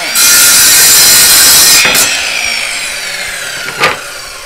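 Loud close power saw cutting through wood for a DIY front porch sign, a sustained whining cut that slowly winds down, with a brief knock near the end.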